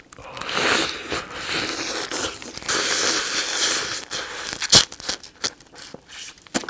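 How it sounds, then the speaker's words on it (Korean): Crunchy bites and tearing into a freshly steamed whole crab with a thin shell, close and wet, with irregular cracking snaps and chewing sounds building toward a few sharp crunches. "여러분 한입 크게 베어무십시오."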